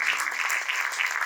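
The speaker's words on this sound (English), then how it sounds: "let's give a big round of applause to Vishnu and Liz" Theater audience at a school drama festival applauding, dense continuous clapping that stays loud and even throughout, with no voices on top.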